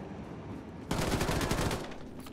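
Assault rifle fire in the video game Wolfenstein 2: The New Colossus, a sudden sustained automatic burst of rapid shots, loud and close, after a quieter lead-in.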